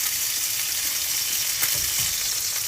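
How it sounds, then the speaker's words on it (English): Yellowfin ahi tuna sears in a hot pan, giving a steady, close, bright sizzle with faint scraping underneath. "We're making seared ahi tuna, yellowfin tuna."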